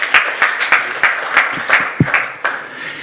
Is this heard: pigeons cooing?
no